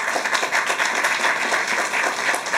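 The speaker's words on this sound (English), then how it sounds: "So let's give that a round of applause" Steady crowd applause at a governor's affordable housing and economic development announcement, dense continuous clapping held at an even level throughout.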